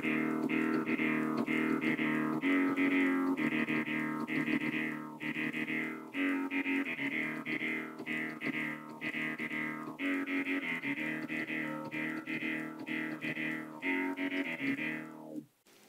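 Classic synthesizer simulator running on a Raspberry Pi, three oscillators with glide playing a steady sequence of bright, buzzy sustained notes with rhythmic filter sweeps, loud and continuous with no talk, cutting off abruptly at the end.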